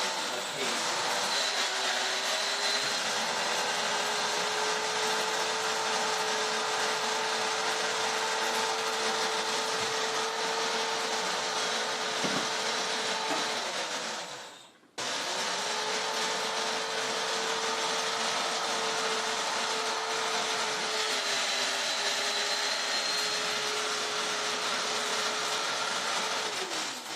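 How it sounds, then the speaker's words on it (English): A machine grinds cocoa nibs into chocolate paste with a steady, loud, continuous motor whir and a constant hum throughout, cut by a brief stop about halfway before it starts again. "you'll probably hear the sound of it change as the cocoa butter is released from the nibs and starts going into the paste."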